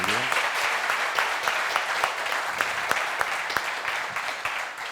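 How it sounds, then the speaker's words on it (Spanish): An audience at a renewable hydrogen conference claps steadily for several seconds at the close of a session, a dense, even applause with scattered louder claps. "os dejo tiempo para el habitual aplauso"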